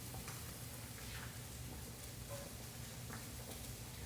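Apples and onions frying together in a pan, a soft, steady sizzle with faint crackles and light stirring, close and quiet with no talking.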